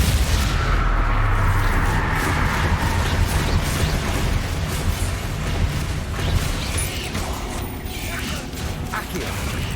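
In Hogwarts Legacy, a Bombarda spell explodes among clattering, mechanical combat noise, giving heavy repeated booms and rattling debris, loud and close for nearly ten seconds.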